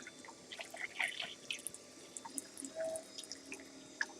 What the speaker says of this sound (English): Kind of pour some water in here.